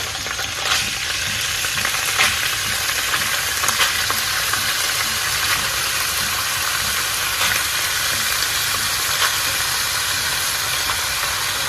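Chopped lean beef fries in a little olive oil for beef stroganoff, a continuous close sizzling hiss with scattered soft crackles and no talking.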